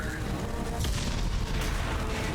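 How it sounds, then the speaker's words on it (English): Dense, continuous explosions inside the Normandy in Mass Effect 2 Legendary Edition, a loud rumbling roar of booms and blasts with no break throughout. "Oh, explosions."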